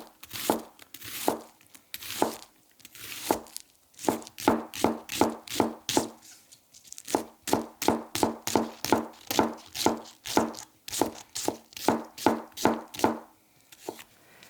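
A Mazaki 210mm Japanese gyuto knife slices through an onion on a cutting board, giving a steady run of crisp, close chopping strokes with brief pauses, no talking.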